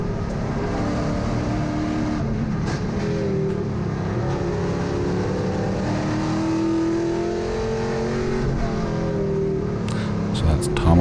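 Race cars in a Gridlife GLTC touring car race at Heartland Motorsports Park, one car running an LS engine, make a steady loud engine drone that rises and falls as the cars race on, with a voice talking over it.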